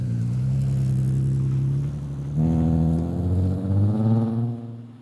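A 2008 VW Golf R32 with a 3.2 liter VR6 engine accelerates, its steady drone jumping midway to a louder rising rev through the gears, heard close and alone.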